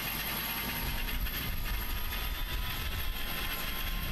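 Engine number 2 of an Inibuilds Airbus A300 starts up in Microsoft Flight Simulator, a steady, dense turbine roar and rushing air heard from outside the aircraft, with no voices.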